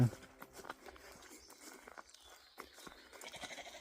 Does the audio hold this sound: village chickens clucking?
no